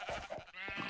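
A Minecraft sheep gives a few quick, wavering bleats in a row, close and clear with nothing else over them.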